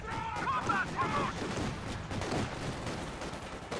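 Volleys of rifle and machine-gun fire in a Company of Heroes 2 video game battle, with Volksgrenadiers and penal troops trading shots from cover, dense and continuous, with whistling tones early on.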